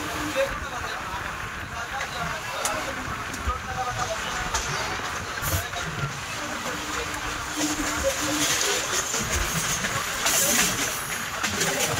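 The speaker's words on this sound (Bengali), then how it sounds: "আমাদের ট্রেন যাচ্ছে মেন লাইনের দিকে, যেটা আমরা যাচ্ছি এখন।" A Sealdah–Diamond Harbour local train rolls along the tracks near Jadavpur with a steady broadband rumble and hiss, recorded from on board, and a faint voice murmurs underneath.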